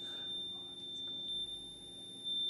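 A REM pod ghost-hunting device alerts inside an old bordello in an Arizona ghost town, giving a steady, piercing electronic tone that holds unbroken for the whole stretch over a quiet, faintly noisy room.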